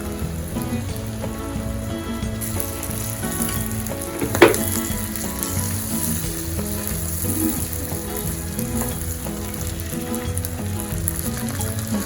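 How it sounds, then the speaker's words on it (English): Steady, dense sizzling of rice frying in a hot pot for jollof rice, continuous throughout with a brief sharper crackle partway through. "I'm gonna pour the whole rice into it, pouring the rice right away."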